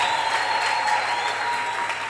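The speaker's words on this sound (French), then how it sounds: "Applaudissez pour vous-même. Applaudissez très fort." A church congregation claps loudly and continuously during a Sunday service, dense applause holding steady throughout with a sustained tone running underneath.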